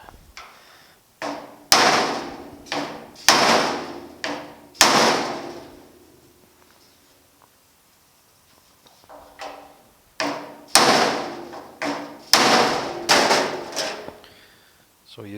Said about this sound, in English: give it a couple of good whacks right here and try to take that dent out